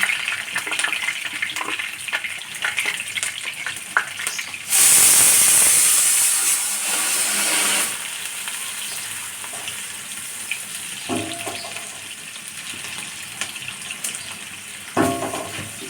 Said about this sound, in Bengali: তো এটা ভালো করে ব্রাউন কালার করে ভেজে নেব।